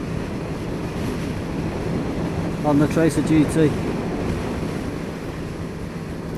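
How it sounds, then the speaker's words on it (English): Riding a Yamaha Tracer 900 GT at speed brings a constant heavy roar of wind buffeting the helmet, a steady broadband rush that the rider briefly talks over. "You can feel the wind blast trying to rip your helmet off"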